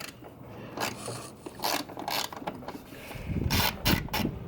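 Ratchet loosening bolts on a Jeep Wrangler 3.6L engine, several short bursts of rapid clicking and scraping at close range, spaced irregularly and growing louder near the end, with no talk.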